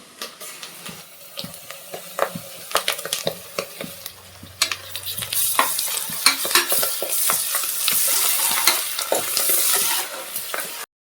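Fried onions and ginger-garlic paste sizzle in a pan for a boti curry, with frequent close spatula clatters and scrapes at first. A louder, brighter hiss swells in the second half as the stirring carries on, with no one talking.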